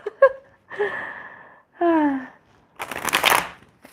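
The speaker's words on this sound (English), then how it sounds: "Oh my God, these cards feel so good to shuffle." A deck of tarot cards being shuffled in a brisk riffling burst near the end, preceded by several short breathy gasps and sighs; nearby and fairly loud.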